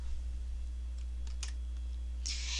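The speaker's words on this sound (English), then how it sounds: "press the delete key on my keyboard" A few soft computer keyboard key presses, including the delete key, while editing in Photoshop CS3, faint and sparse over a low electrical hum with no voices.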